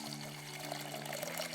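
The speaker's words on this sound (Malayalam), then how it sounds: "ഇനി ഇതിലേക്ക് 3 കപ്പ് വെള്ളം ഒഴിക്കുക." Water pours steadily into a pressure cooker holding washed split mung beans, a short continuous splashing stream at moderate level.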